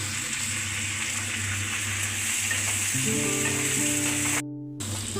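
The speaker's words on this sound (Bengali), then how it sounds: "এবার পেঁয়াজগুলোকে দিয়ে আরও তিরিশ সেকেন্ড আমি ফ্রাই করে নেব" Chopped onions and ginger sizzle steadily in a hot pan, a constant close frying hiss that shifts slightly in pitch partway through, with no talking.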